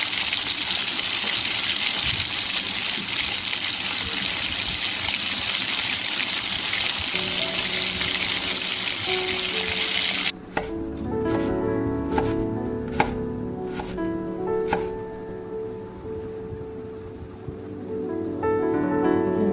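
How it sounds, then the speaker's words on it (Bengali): Roadside dhaba-style hotel kitchen: a long steady hiss like frying or running water, then a run of sharp, evenly spaced knife chops on a board, fairly close and loud. "এই যে রান্না বান্না শুরু হয়ে গেছে এখানে।"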